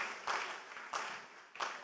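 A church congregation at a Communion Sunday service clapping for the Lord, three distinct unison claps in a slow, even rhythm, soft and somewhat distant.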